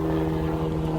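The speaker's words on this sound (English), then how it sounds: "apologise for the helicopter going over" A helicopter passes overhead, its steady low droning rotor and engine hum continuous and fairly close throughout a brief moment, with no speech.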